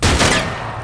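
A gunshot rings out in a tense film scene as an older sibling fires to drive off a group of men, a single loud close blast with a rough, decaying tail and no talking.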